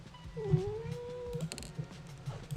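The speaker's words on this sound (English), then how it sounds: "That is the cat. She is determined to be involved in this episode." A pet cat lets out one long, drawn-out meow close to the microphone, over faint game sounds, with no talking.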